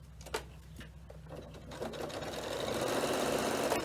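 A sewing machine stitches through layers of a fabric notebook cover with a magnetic clasp. A few clicks come first, then a steady close whir that grows louder and runs on continuously.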